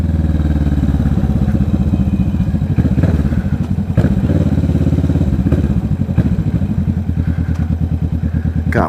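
A Kawasaki Vulcan S 650 motorcycle fitted with a Two Brothers exhaust idles and revs nearby, a loud, throaty, pulsing engine rumble with steady low thumping and occasional clatter, running continuously with no talking.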